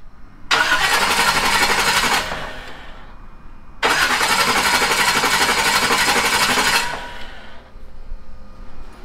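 An engine fitted with an MSD ignition box is cranked in two loud, close bursts of a few seconds each, with a brief pause between them and a quieter low rumble afterward.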